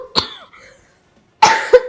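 A person coughs twice, a short sharp burst followed after a pause by a louder, longer double cough, heard close and alone.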